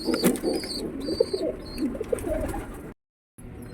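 A Lotan pigeon coos low and steadily up close while feeding its chick, with soft rustling and a brief gap near the end.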